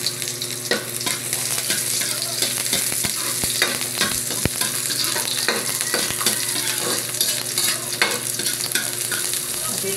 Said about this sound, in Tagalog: Igigisa ko naman ito sa bawang at sibuyas.